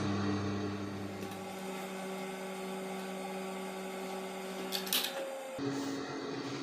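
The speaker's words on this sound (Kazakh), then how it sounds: "Енді шетін жақсылап айналдырып тігіп аламыз." Steady mechanical whir of a sewing machine stitching around the edge of a square patchwork quilt, a constant motor hum that shifts pitch near the end with a few brief clicks, no talking.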